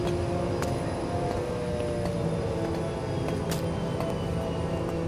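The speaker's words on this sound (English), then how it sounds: "Scarlet lands a helicopter on a roof of a building where Astrid can meet Colonel White" A helicopter sets down on a building's rooftop, its engine and rotors giving a loud, steady, continuous drone with no voices.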